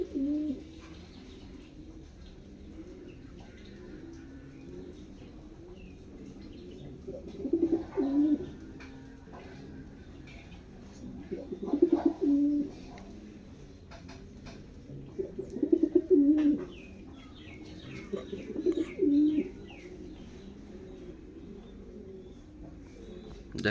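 A pigeon newly paired with a female coos in several soft, rhythmic bursts spaced a few seconds apart, close by over a quiet background with faint chirps.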